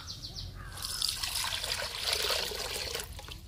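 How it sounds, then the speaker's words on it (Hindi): Bami fish being rinsed in running water for a village curry: a continuous trickle and splash of flowing water, fairly close and moderately quiet, with no talk. "इसको पहले धो लेते हैं पानी में,"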